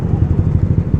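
Yamaha Aerox scooter bored up to 215cc rumbles steadily up close, a low, throbbing engine note with a regular pulsing rhythm and no voices.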